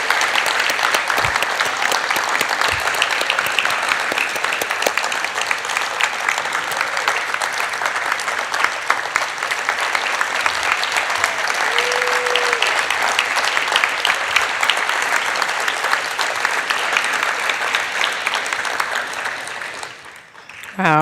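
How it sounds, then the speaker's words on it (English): Sustained applause from an audience for the presenters at a university Grad Slam research-talk final, dense, even clapping that fills the room and holds steady before cutting off near the end. "Let's give a round of applause to all of our presenters."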